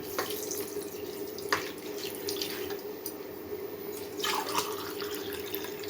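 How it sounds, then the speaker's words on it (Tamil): Boiled and cooled milk is poured from a tumbler into a pot while cooking pongal in a home kitchen, a close, continuous liquid pour with a few splashy surges and no talking. "இது வந்து காய்ச்சி ஆற வச்ச பால் தான். 2 டம்ளர் ஊற்றுறேன்."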